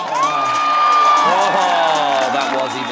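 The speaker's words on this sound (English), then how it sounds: "I think that's Nicky's fan crowd there" Fans cheer loudly and continuously at a wakeboard big air final, with whoops and a long sustained shout rising over the crowd noise throughout.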